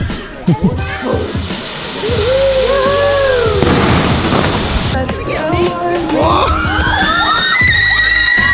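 Loud booming bursts and crackling fireworks fill the air, with whistling rising tones and people shouting and screaming over the steady roar.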